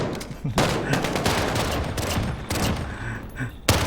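Sustained rapid turret gunfire in a co-op shooter game, a loud continuous volley with a few sharper bursts.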